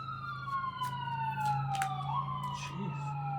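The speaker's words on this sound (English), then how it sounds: "Sorry about the sirens coming in." Emergency vehicle sirens wail in the distance, their rising and falling tones sweeping steadily behind a quiet indoor room, with faint background noise and no talk heard.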